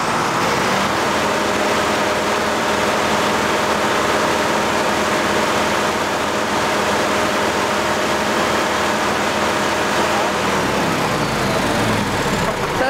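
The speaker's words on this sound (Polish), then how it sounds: "Zapal ciągnik." A farm tractor engine runs steadily at 2500 rpm under load during an electrical charging test with an inverter, a loud continuous drone with a faint whine, settling lower near the end.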